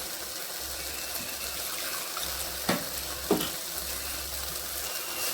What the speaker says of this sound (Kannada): ಕಾಳು ಮೆಣಸು ಜೀರಿಗೆ ಎಲ್ಲ ಜಾಸ್ತಿ ಎಣ್ಣೆಯಲ್ಲಿ ಫ್ರೈ ಬೇಡ ನೋಡಿ